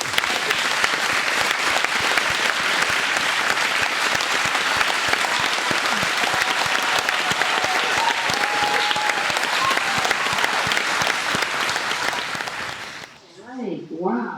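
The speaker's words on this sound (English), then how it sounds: "Let's have one more round of applause. For Victoria Dalkey." A poetry reading audience applauds poet Victoria Dalkey with sustained, dense clapping for about thirteen seconds, loud and even, before it abruptly fades and a voice begins.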